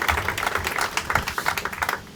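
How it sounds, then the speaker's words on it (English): Audience applause at a neighborhood meeting, a brief patter of scattered clapping from a small crowd, fairly close with uneven rhythm. "You can give him applause too."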